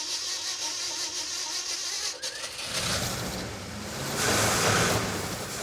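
A Ford Ranger engine with a reinstalled carburetor catches partway through and rises into a steady, fairly loud running roar after a quieter stretch of low background noise.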